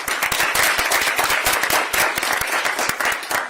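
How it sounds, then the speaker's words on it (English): A crowd at a public event for a cash assistance program breaks into steady, dense applause for legislators, many hands clapping loudly and continuously close by. "So a round of applause and a thank you to our legislators."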